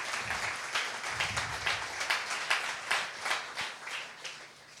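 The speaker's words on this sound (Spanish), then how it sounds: "Da un aplauso al Señor" A church congregation applauds during a Sunday service, a steady wash of many hands clapping at moderate distance with rhythmic swells, and no talk over it.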